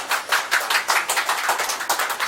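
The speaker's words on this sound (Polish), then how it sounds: "Poproszę o gromkie brawa." Audience clapping after a performance, a moderate patter of several hands with uneven bursts and no voices.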